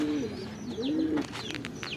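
Racing pigeons coo close by in soft, rolling repeated phrases, joined by a few sharp chirps from other birds near the end, outdoors in rainy weather.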